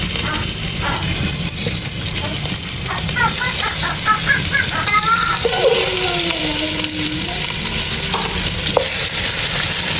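Beef fat frying in a little oil in a pan, a loud steady sizzle and crackle with occasional stirring scrapes throughout.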